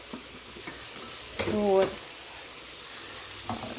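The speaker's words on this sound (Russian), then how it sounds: "Раз это вот жарим блинчик. Жарится блинчик." Blin pancake batter sizzles steadily in a heated frying pan, a soft continuous hiss with a brief clink of utensils and a single short spoken word.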